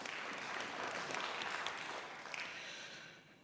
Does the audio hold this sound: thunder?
no